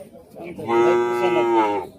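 A heifer at a cattle market in Rajshahi lets out one long, close moo lasting about a second, with faint background noise before it.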